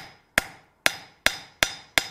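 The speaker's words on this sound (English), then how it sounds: "with the least amount of hammer blows possible." Five sharp, ringing hammer blows on hot steel while forging a very large nail, struck at a steady, slightly quickening pace, each strike close and loud with a short metallic ring decaying before the next.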